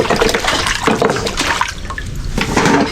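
Water sloshes and splashes in uneven bursts as mud is rinsed off freshly gathered clams, close and fairly loud, with no voices.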